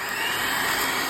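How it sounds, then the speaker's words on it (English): An electric hand mixer whirs steadily in oil and vegetable oil, a continuous high-pitched motor hum at moderate level for about a second. "you'll need your hand mixer"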